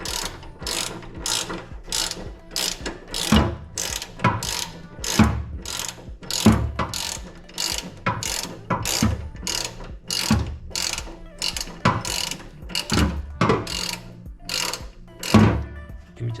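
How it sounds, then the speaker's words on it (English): A ratchet clicks in steady, rapid bursts while tightening a steering damper bolt on a VW Super Beetle, close and distinct, repeating over and over without speech. "now we'll use a ratchet."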